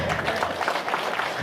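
An audience at an Isra' Mi'raj religious gathering in Sendang Asih bursts into applause, a brief, dense wash of many hands clapping at once, steady and fairly loud.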